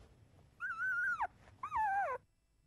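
Labrador puppy with an unusual patterned birthmark on its belly, giving two drawn-out high whimpering whines, close and clear, each lasting about half a second, with quiet background between.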